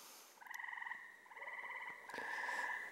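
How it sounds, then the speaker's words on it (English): Frogs croak on a summer evening at a farm, several close, pulsing trills overlapping in bursts of about a second each against a quiet background. "the frogs are croaking"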